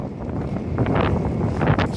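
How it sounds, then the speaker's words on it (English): Strong outdoor wind buffeting a microphone beside an old brick building, a loud rough low rumble with gusty bursts of broadband roar over two seconds. "It's really windy. Sorry about the noise."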